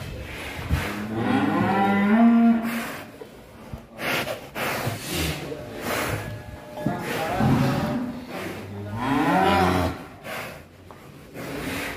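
Cattle in a modern barn at an Indonesian farm let out loud, drawn-out moos close by, several calls in a row with snorts and breathing between them.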